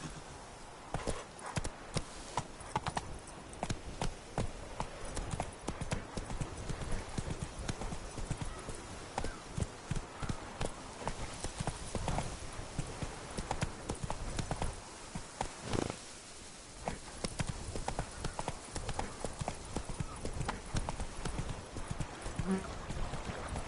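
A horse galloping in The Witcher 3, with rapid rhythmic hoofbeats that continue throughout, close and steady, along with soft rustle and occasional faint background sounds.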